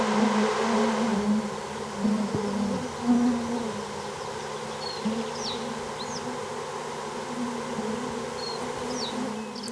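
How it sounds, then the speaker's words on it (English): A steady, dense droning hum from a swarm of mosquitoes hanging over West Siberian marshes, continuous and enveloping, with a few faint higher chirps in the background. "Droning clouds of insects hang low above the swamps."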